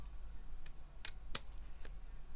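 Scissors snip a handcraft piece with a few short, crisp cuts spaced irregularly, close and fairly quiet against a faint room hum.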